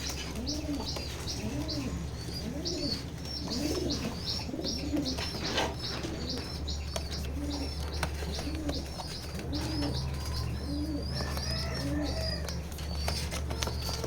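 Pigeons offered for sale coo in a steady, repeating rhythm, with several birds overlapping at moderate distance over a constant low hum and light chirping.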